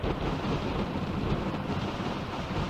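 Steady broadband rumble of a thunderstorm in a Fixiki city video game, a continuous loud wash of rain and low thunder with no talking.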